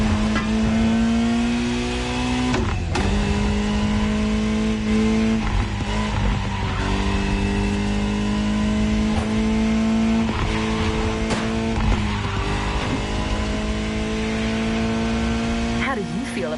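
A Ferrari 308 GTS in The Crew Motorfest racing game drones with a steady engine tone that climbs through repeated gear shifts, loud and continuous beneath a voice.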